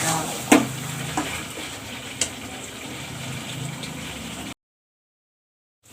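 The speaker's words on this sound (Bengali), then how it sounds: "মশলাটাও শুকনো শুকনো করে পুরো ভাজা হয়ে গেছে" Spice masala frying in oil, cooked down until dry, sizzles steadily up close with a few sharp scrapes of stirring near the start, then cuts to silence for the last second and a half.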